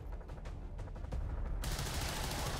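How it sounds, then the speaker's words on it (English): Soldiers' gunfire in the modded strategy game XCOM 2, a dense, continuous volley of rapid shots close up, swelling louder partway through and rolling on without pause, with no talk. "So, pew pew pew pew! We just shoot them."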